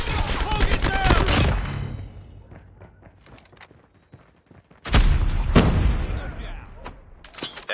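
A deployed sentry gun opens fire in a Call of Duty Mobile frontline match, loud dense bursts of rapid gunfire that break off into scattered shots and thuds, then resume in another heavy burst, with game voice callouts.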